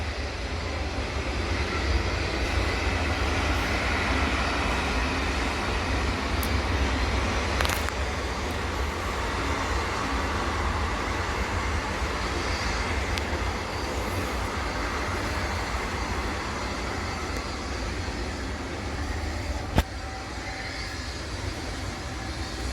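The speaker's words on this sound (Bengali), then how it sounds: "ট্রেন আসছে দেখুন।" A train approaches past a home in a rural setting, its broad steady rumble loud and continuous throughout with no talk over it.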